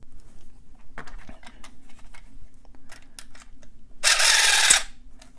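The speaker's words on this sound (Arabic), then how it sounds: "اكتشف هذا الشخص أنه يمكنك فتح الأقفال باستخدام مفك رفيع وشنيور صغير" A small drill and a thin screwdriver work at a lock, giving sparse, faint mechanical clicks and taps, then a short, loud burst of harsh noise near the end.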